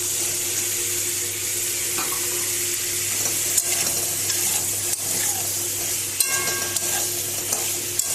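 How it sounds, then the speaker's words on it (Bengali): Garlic and onion sizzle steadily in a pan, with occasional scraping clinks of a utensil stirring; moderately quiet and without speech. "আমি রসুন আর পেঁয়াজটা আগে ভেজে দিলাম"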